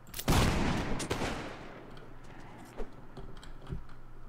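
Troops in the Mount and Blade Warband game loose a musket volley, a single loud crackling burst that echoes and fades, followed by scattered fainter shots and clatter.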